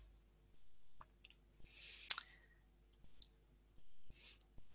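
Computer mouse clicks sound as sharp, quiet taps, a few isolated single clicks spaced irregularly across a near-silent background with faint shuffling between them.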